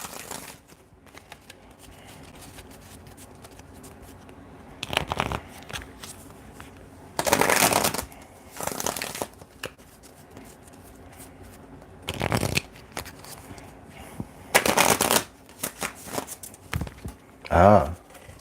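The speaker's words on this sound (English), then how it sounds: "Let me pull some more cards here for the situation." Tarot cards being shuffled and pulled from a deck. Several loud, crisp riffling bursts of a few seconds each come up close, separated by quiet pauses.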